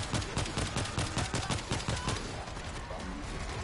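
Rapid gunfire from an upgraded weapon in a New York tunnel level of a shooter game, a dense, loud burst of repeated shots in quick rhythm, thinning out toward the end.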